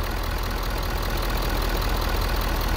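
The 6.7 liter Powerstroke turbo diesel in a 2017 Ford F250 Super Duty King Ranch idles steadily, a low, even diesel clatter with no one talking.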